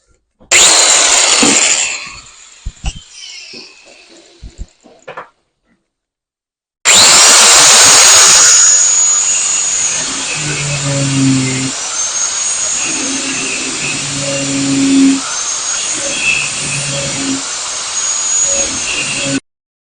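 A power tool cuts sheet metal for a new trunk floor on a Model A hot rod. It is loud and harsh, with a short burst, a pause, then a long steady run of grinding noise.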